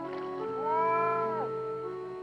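A bobcat in a swamp gives a single drawn-out meow that rises and falls, clear and fairly close over a quiet steady background.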